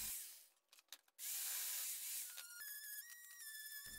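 Wood is sanded with 80-grit sandpaper on a power tool, starting with a few short scrapes and rubs, then a loud, steady whirring hiss that shifts into a tonal whine near the end.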